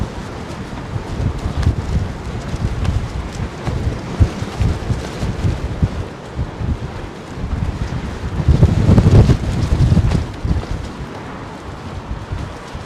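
Gusty wind buffets the microphone at London Heathrow Airport, a rough, roaring rumble that surges and eases in waves, loudest in a strong gust near the end.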